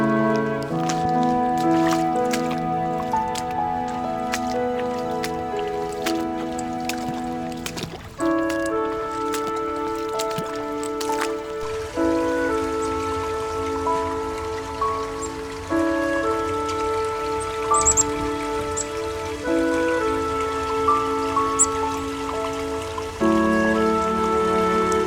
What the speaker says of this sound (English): just to show you how much it's been raining